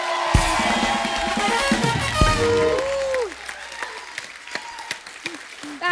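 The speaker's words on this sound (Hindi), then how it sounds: "जोरदार तालियां हो जाए एक बार" A studio audience on a comedy talk show breaks into loud, dense applause that dominates the first three seconds, then thins into scattered claps and murmurs.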